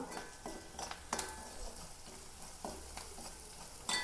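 Onion, green chili and garlic fry in a pan for a fish curry, sizzling steadily up close while a spoon stirs and scrapes in repeated strokes.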